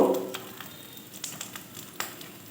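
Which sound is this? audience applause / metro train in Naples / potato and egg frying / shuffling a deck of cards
potato and egg frying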